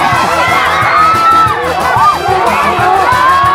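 A group of children and adults shout, whoop and cheer excitedly during a bandana search game at an outdoor camporee, with loud overlapping voices and short rhythmic thumps underneath.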